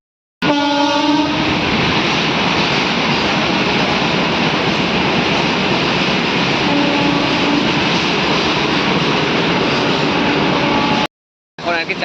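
A train at Chapaguri railway station in Cooch Behar rumbles past loud and close, with a horn sounding at the start and again midway, the steady roar continuing for about ten seconds before cutting off.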